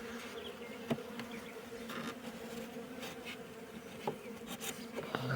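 Steady, continuous buzzing of honeybees close by, a soft drone with a few faint knocks, no voices.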